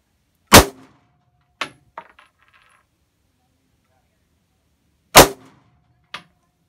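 Gunshots at outdoor target practice, sharp isolated cracks with short decaying ring, two louder reports and a few lighter impacts or clinks spread out over several seconds with silence between.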